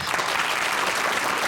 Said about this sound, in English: a big round of applause for the inventors, the wonderful inventors